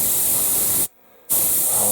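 Airbrush spraying olive drab paint, thinned 50-50, onto a 1/72 Airfix B-17G model aircraft: a steady close hiss that cuts off briefly mid-clip and then resumes.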